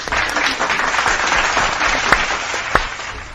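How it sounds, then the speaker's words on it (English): A crowd's round of applause, a dense wash of many hands clapping steadily for a few seconds, close and fairly loud with a couple of sharper claps standing out. "Let's give everyone a big round of applause."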